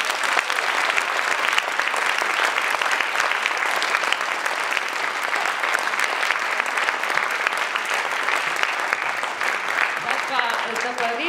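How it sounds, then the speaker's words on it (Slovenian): Audience in a hall applauding after a dance performance, a long dense wash of clapping that holds steady and loud, with faint voices surfacing near the end. "Torej, res še en aplavz za vse."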